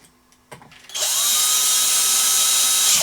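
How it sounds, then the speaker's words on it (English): A cordless drill fitted with a screwdriver bit starts after a couple of clicks and whirs steadily and loudly at high speed for the rest of the clip. "I can't help noticing Mr. Chippy, he seems to have got a screwdriver bit in this drill."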